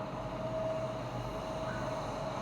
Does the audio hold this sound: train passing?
yes